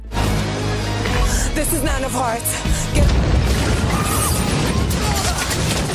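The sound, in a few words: explosion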